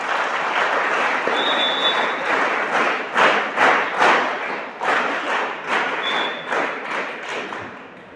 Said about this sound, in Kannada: ಅವ್ರಿಗೆಲ್ಲರಿಗೂ ಒಂದ್ಸರಿ ಚಪ್ಪಾಳೆ ತಟ್ಟಿ